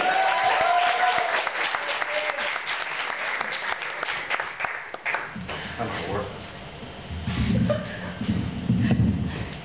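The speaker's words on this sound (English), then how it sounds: "can we please have a round of applause for Mr. Alvey Little?" Audience applause greets comedian Alvey Little at a comedy show at Zeal, a dense steady clapping that fills the room, with a voice whooping near the start and the clapping swelling again near the end.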